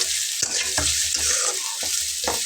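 Lightly fried onions in a pan sizzle steadily and loudly with a bright hiss, broken by a few soft stirring scrapes.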